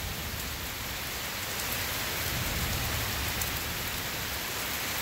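Heavy rain pours down steadily, a dense, even hiss of drops striking surfaces close by, unbroken and with no voices.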